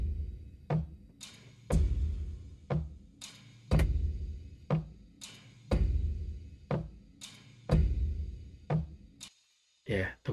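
Sampled percussive knocks from the Chain Gang patch of the Zero-G Mobeus sound library, a trailer-music percussion set: loud, sharp hits fall about once a second in a steady repeating pattern, close and dry, with no voice over them.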